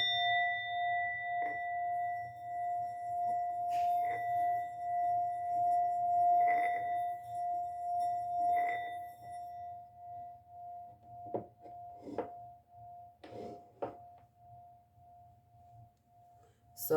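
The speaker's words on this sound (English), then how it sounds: "we may stop hearing the chime of the singing bowl, but it'll still be vibrating" A singing bowl rings with a sustained, steady tone that fades slowly, with a few soft, brief knocks and taps heard near the end of the clip.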